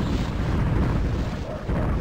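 Missiles striking and exploding on a ship in the space game Escape Velocity Nova, a dense, continuous rumbling roar of blasts that stays loud and steady throughout.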